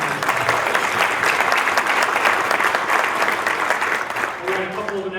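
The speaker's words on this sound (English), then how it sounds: "Let's give a big round of applause to Kelly." An audience at a Rotary Club meeting applauds in a steady, loud burst of clapping that lasts about five seconds, with a voice speaking faintly near the end.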